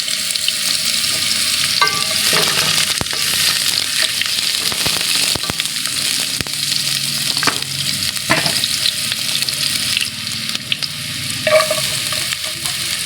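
Onion sautéing in oil in a pan for creamy macaroni chicken soup, a loud, continuous crackling sizzle with occasional sharp pops and stirring scrapes throughout.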